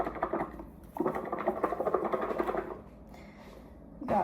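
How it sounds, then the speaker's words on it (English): A lidded container holding drizzled olive oil is shaken by hand in a kitchen, giving two bursts of rapid rattling patter, the second longer, followed by quiet and a short scrape at the end. "I'm gonna put this lid on and shake it up."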